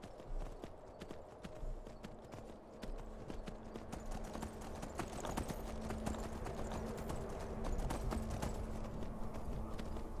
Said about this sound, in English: I feel I need a faster horse.